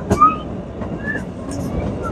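The Kalka–Shimla toy train rolls along its narrow-gauge mountain line with a steady low rumble and faint clicks. Passengers talk quietly over the noise.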